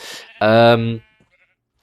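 A sheep in the Minecraft FTB video game gives one loud, harmonic bleat lasting about half a second, following a softer lead-in sound, then fading to near silence with a faint click at the end.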